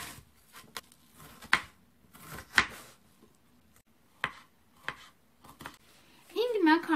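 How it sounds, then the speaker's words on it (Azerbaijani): An onion is chopped with a knife in a home kitchen: about eight sharp, separate knife strikes at an irregular pace, close and crisp against quiet, with a brief tonal sound near the end. "Bir baş soğanı doğrayıram."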